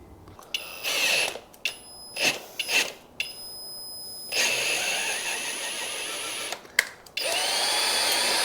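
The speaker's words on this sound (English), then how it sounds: "Using a power drill to tap this stuff." A power drill whirs in short, stop-start bursts while tapping threaded holes during fuel system work on a Speedway T-Bucket hot rod with a small-block Chevy 350, loud and close with pauses between runs.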